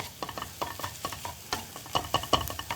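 Shrimp fried rice with egg is stirred and tossed in a hot pan, giving a steady sizzle broken by quick scraping clacks of the utensil against the pan, close and moderately loud.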